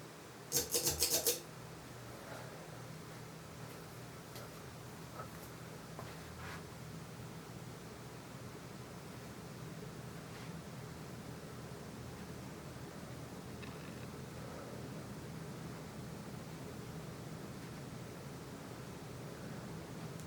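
A c.1989 FASCO Decorator 48-inch ceiling fan running at medium speed, a steady soft whooshing hum of moving air with some bearing noise, after a brief clatter at the start.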